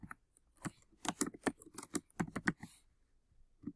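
Keystrokes clatter on a computer keyboard in quick uneven bursts, close and moderately loud, then stop for a short quiet pause before a couple more taps.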